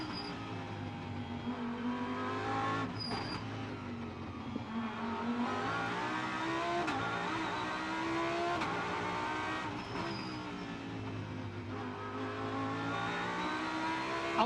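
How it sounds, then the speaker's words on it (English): Onboard engine roar of a GT race car on the Macau street circuit, loud and close, with rising and falling revs through gear changes and braking across the lap, heard alone. "Enjoy the noise as you go on board with Eduardo Mortara."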